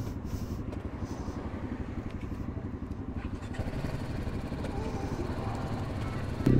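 BMW G310R single-cylinder motorcycle engine running steadily while riding, a continuous close, even drone with rapid pulsing and wind, rising slightly in level at the very end.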